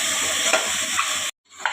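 Ridge gourd curry with moong dal and spices being stirred as it fries in a pan, a close hissing sizzle with scraping spoon strokes, broken by a short gap before the sizzle returns.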